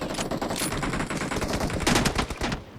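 AWM sniper rifle gunshots in a shooting video game, a run of sharp, loud cracks and rapid bursts of in-game gunfire close together, with no talk over them.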